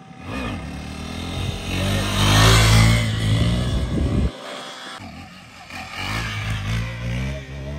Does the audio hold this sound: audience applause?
no